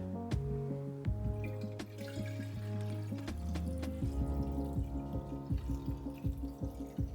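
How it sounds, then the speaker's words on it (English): Homemade cashew milk pours through a drawstring strainer bag into a container, giving a steady trickle with dripping and splashing up close and no talking. "And then I'll just take the milk and pour it in."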